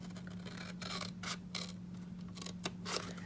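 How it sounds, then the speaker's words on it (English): Scissors snip cardstock up to a score line, several sharp close cuts in an irregular rhythm over a constant low electrical hum. "I'm going to just snip up to that score line,"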